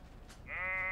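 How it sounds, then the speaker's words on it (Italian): A single sheep gives one drawn-out, clear bleat that starts partway in and holds steady to the end, close and prominent over a quiet background. "Lucy, è una pecora quella dietro di te?"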